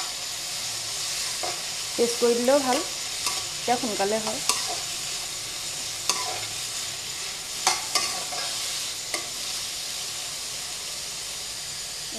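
Tomato, ginger, garlic and chili sizzle and hiss in a pan under steady frying noise, with a few bursts of stirring scrapes and someone speaking briefly over the cooking.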